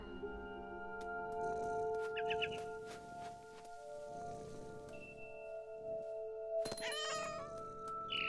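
A cat meows and caterwauls in the video game What Remains of Edith Finch, with drawn-out cries over a soft, sustained musical score and a sharper burst of calls near the end.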